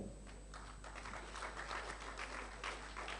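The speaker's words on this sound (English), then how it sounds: "it's okay to clap for them now" Faint, distant audience applause at a 2019 Nigerian youth presidential debate, a thin patter of clapping heard at low level over a steady electrical hum.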